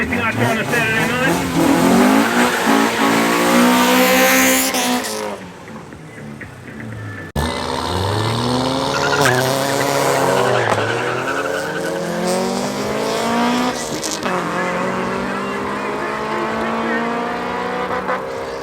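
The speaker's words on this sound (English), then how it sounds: "It's going to be the Honda going up against JP in the Mini." Front-wheel-drive Honda and Mini drag racing at a raceway, with loud engines revving hard through rising gear pulls, a brief cut, then another roaring run with tire noise, and a voice talking over it.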